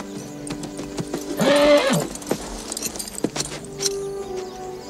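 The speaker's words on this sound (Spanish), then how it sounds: "Sally, cuida del caballo" A horse's hooves clip-clop on hard ground in a western film scene, with a loud whinny in the middle and jangling tack around the steady, close footfalls.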